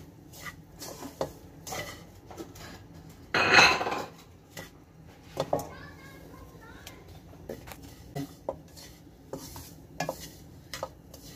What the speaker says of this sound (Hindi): सौंफ को थोड़ा सुरख करेंगे।